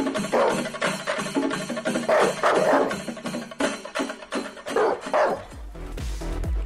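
A dog barks repeatedly in a snowy Canadian outdoor setting, a run of sharp, fairly close barks and yips in quick rhythm that fade toward the end.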